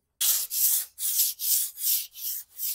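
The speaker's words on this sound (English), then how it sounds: "I'm gonna go ahead and sand it and get it as smooth as possible" Trailer braces being sanded with 80 grit sandpaper, a steady back-and-forth scraping in six even strokes, close and loud with no one talking.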